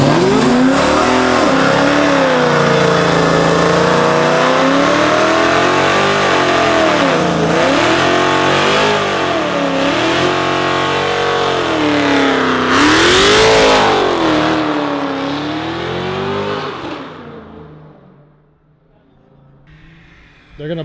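A Dodge Hellcat drives and revs hard, its engine note rising and falling in repeated loud surges with a sharp spike near the end before fading away; voices are faintly present underneath.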